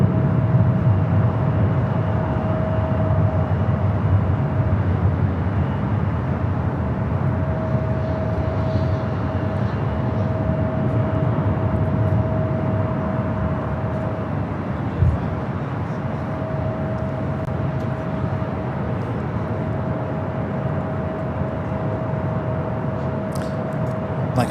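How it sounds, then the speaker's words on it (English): A Delta Airlines Airbus A321neo arriving at LAX on a flight from Atlanta gives a steady, unbroken broadband roar of jet engines that holds at an even level throughout, with no voices over it. "Our next arrival here on the north side is Delta Airlines flight 687, coming from Atlanta"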